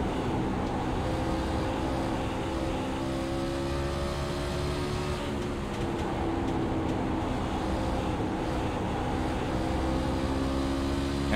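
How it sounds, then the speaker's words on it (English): Race truck engines in a video game at Bristol drone and rev on the oval with throttle blips, a steady layered engine roar and whine that runs unbroken. "let's watch and listen to the throttle playing and racing around here at Bristol"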